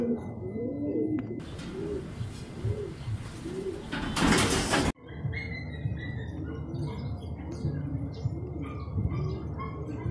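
Racing pigeons coo repeatedly in low, rolling calls, with a steady background of birds and ambient noise; a brief burst of broadband noise interrupts midway.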